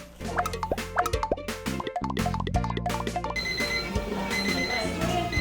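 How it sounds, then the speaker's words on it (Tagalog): A bedroom alarm clock beeps in a steady, looping electronic melody over a bouncy musical backing, then gives way to a brighter, ringing tone near the end. "Nag-a-alarm lang yung orasan dito sa kwarto o bedroom."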